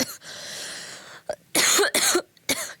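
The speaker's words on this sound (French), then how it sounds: "je respire un peu de poussière, donc ça me fait un peu tousser" Several harsh coughs from a woman reading aloud, brought on by breathing in dust, come in close bursts after a quiet stretch, loud and near with short gaps between them.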